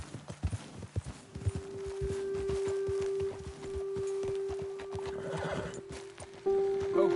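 Horses in Red Dead Redemption 2 clip-clop along at a walk with steady, close hoofbeats, while a whinny and snorts break in, over a sustained low droning tone from the game's backdrop.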